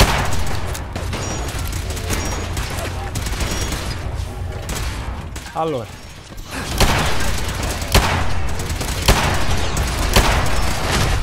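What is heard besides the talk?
explosion in video game Fallout 4 Automatron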